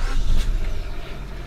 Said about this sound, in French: Et la voiture démarre uniquement sur le booster.